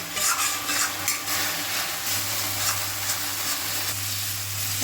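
Masala spice paste frying in oil in a pan, a close, busy sizzle with crackling pops, steady throughout, with a low hum entering partway and no talking.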